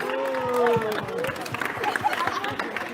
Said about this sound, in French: Et ouais, on applaudit.